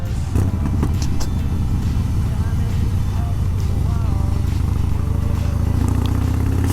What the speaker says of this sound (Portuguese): chamou no acelerador, ele rapidamente já responde